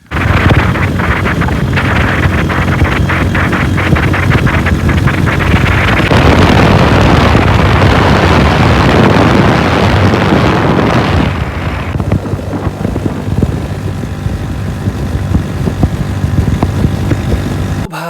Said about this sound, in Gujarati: તો ફટાફટ આપણે ફાઇનલી બાઇક લઈને નીકળીએ